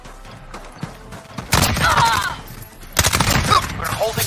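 Gunfire bursts in Call of Duty: Modern Warfare multiplayer, two loud rattling volleys of rifle fire with scattered shots before them, close and sharp, mixed with game noise.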